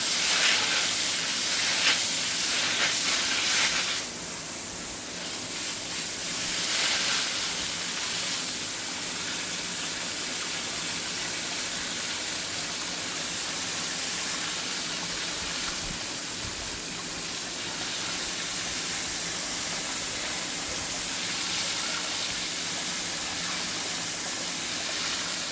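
A loud, continuous hiss of water spraying down plants fills the whole stretch, briefly pausing and surging again.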